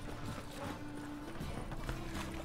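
Horse hooves clip-clop steadily as the horse is ridden near Oxenfurt in the video game Witcher 3, a continuous even rhythm of hoof beats over a soft ambient background.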